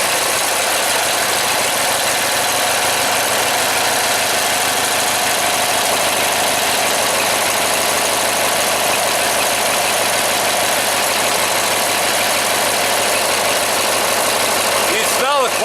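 A Briggs and Stratton opposed twin, 16 or 18 hp, fresh from a head gasket replacement, runs loud and close with a steady unbroken idle lasting throughout, buzzing and slightly knocking.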